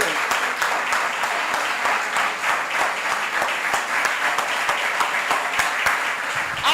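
A church congregation applauds in sustained, thick clapping that stays loud and even across the whole stretch, with no speech over it.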